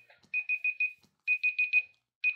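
A small alarm clock rings in two bursts of rapid repeated beeps, each burst of four quick pulses, followed by the start of a third, moderately quiet and with no talk over it.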